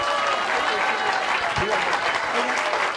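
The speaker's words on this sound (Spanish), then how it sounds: "un aplauso fuerte" A full auditorium audience applauds loudly and steadily in thanks to the cartoonist Rafael Barajas, "El Fisgón", a dense, sustained wash of clapping lasting throughout.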